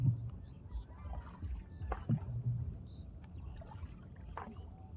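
A flock of ducks on a duck farm in the Chalan Beel wetland, heard from a boat on the river: scattered quacks and honks rise over a low rumble of boat and water noise, moderately near.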